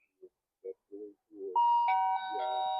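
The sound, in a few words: bell ringing when pressed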